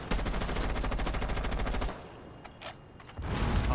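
Rapid automatic gunfire from a first-person shooter match, a loud sustained burst of evenly spaced shots that cuts off, then a few scattered quieter hits before another loud burst resumes.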